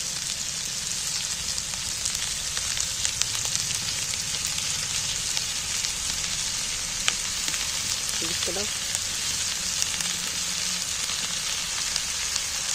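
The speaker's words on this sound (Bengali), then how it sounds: "এইবার আমি মাংস পিসগুলো তুলে দিচ্ছি।" Chicken pieces fry in a pan with a steady, close sizzle that runs the whole time, with faint clinks and stirring noises now and then and no voices.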